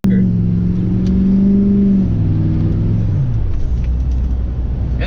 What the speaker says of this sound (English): And the truck actually does pretty good sending it sideways